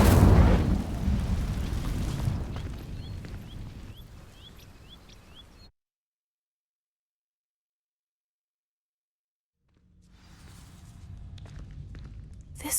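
An Incendio fire spell in Hogwarts Legacy bursts into flame on dry vines with a loud roaring whoosh, crackling and fading over a few seconds, then goes silent before a low rumble and soft scuffs return.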